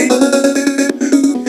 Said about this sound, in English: The chops that you're hearing in the background on the chorus are this.